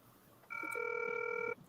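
A single electronic telephone ring, a bright steady tone lasting about a second over faint room noise, with no talking during the ring.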